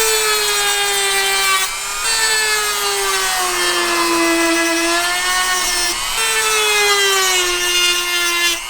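A power tool cuts a square mounting hole for a Midland MXT575 GMRS radio microphone in a Land Cruiser panel, giving a loud, steady, high-pitched whine that runs continuously with small dips in pitch and brief pauses.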